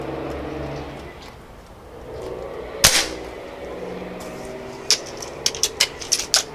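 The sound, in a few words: air rifle shots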